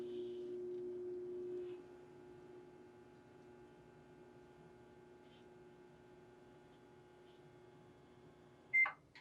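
A microwave oven hums steadily while softening butter in a mug, the quiet drone weakening partway through and then ending with a sharp beep near the finish.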